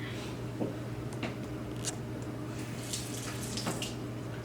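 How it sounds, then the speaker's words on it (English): Tap water runs in a steady trickling stream close by, a little added to icing for gingerbread, with a few light clinks and splashes over a faint low hum. "I'm just adding like a little bit of water."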